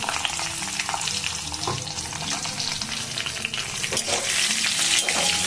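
Cashews and raisins fry in hot oil, giving a steady, dense sizzle with a few louder crackles and stirring scrapes, close and continuous with no talk.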